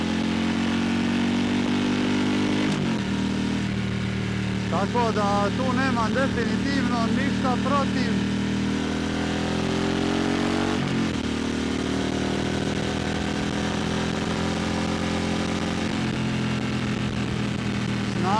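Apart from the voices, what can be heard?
Harley Davidson Pan America motorcycle engine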